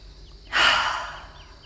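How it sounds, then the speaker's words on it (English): A single deep breath during a gentle yoga session for beginners: a soft airy rush that swells suddenly and then tapers slowly as the air is let out, close and alone. "Take a deep inhale through the nose and an exhale out the mouth."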